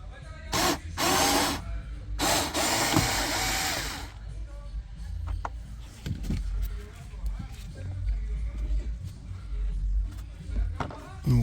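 A bolt comes out of the rear HVAC housing on a Land Rover Range Rover Sport HSE: loud bursts of a power tool whir in short spurts, followed by clinks and handling noises while someone talks.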